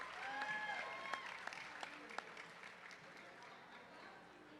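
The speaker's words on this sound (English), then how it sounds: "Give a round of applause for Brooke." Pitch competition audience clapping for a finalist from a beauty startup, a soft, somewhat distant patter of many hands that gradually fades away, with a few faint voice-like tones early on.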